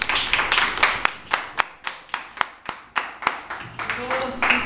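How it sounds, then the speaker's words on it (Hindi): A class of students claps loudly in a steady, rhythmic beat, with sharp, evenly spaced hand claps continuing for several seconds and faint voices underneath. "नहीं, तालियां बजनी चाहिए जोर से"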